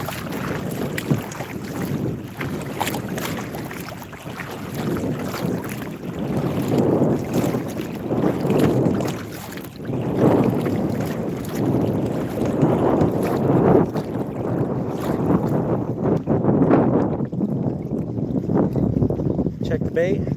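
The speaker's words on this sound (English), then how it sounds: "going straight into the wind." Wind buffets the microphone on a lake during a fishing boat trip, a loud continuous rumbling roar that surges and eases, with water sounds underneath.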